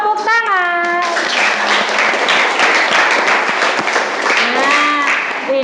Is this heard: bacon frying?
no